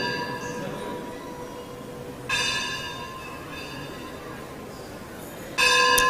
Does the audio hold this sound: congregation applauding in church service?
no